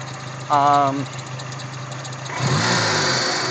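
A Dodge Neon SRT-4 engine idles with a steady low hum, joined by a brief tonal whine and a rougher, slightly louder rumble toward the end.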